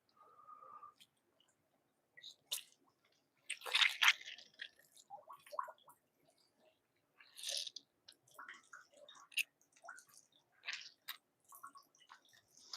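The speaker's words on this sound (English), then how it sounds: "So what I've been doing with this is squeezing it out, adding tannin to the water." A leather hide is squeezed out by hand in a strong tannin bath, giving quiet, intermittent wet squelches and drips up close with pauses between them.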